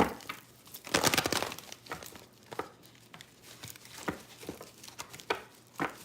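Tarot cards riffle and slide against each other in a close, papery shuffle with crinkly bursts, no voices.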